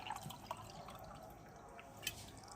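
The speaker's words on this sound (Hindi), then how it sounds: "1 गिलास पानी थोड़ा सा खाली है दोस्तों, इतना हम पानी लेंगे इसमें और इसे भगोनी में डाल देंगे" A glass of water is poured into a cooking pan on a stove, with soft splashing and a few faint drips at low volume and no talk.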